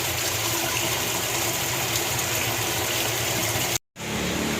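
Water gushes steadily through an RO water station during backwash, a loud, continuous rushing hiss with a faint pump hum beneath. It cuts out briefly near the end, then resumes.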